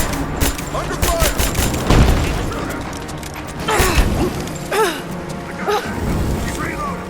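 Rise of the Tomb Raider firefight: scattered gunshots and heavy thuds punch through steady mechanical noise, with several louder hits spread across the clip and voices shouting between them.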